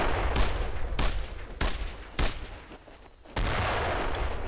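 Gunfire from a machine gun in the World War II shooter Brothers in Arms, heard as four or five sharp, loud bursts spaced about a second apart over a continuous battlefield rumble.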